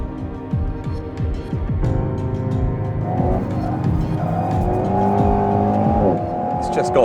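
A 2018 Alpine A110 sports car engine revs close and loud through a high-speed corner, rising and falling in pitch, with a few crackles and pops as the throttle lifts on the overrun.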